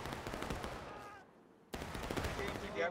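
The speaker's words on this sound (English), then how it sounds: "Nice volley from HD" A musket volley from many rifles goes off in the Civil War game War of Rights, rattling gunfire that fades to a brief lull, then a sudden, loud burst of massed shots.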